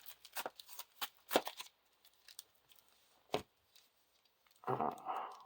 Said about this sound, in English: Shuffle the discard pile into the encounter deck and then discard until an enemy is revealed.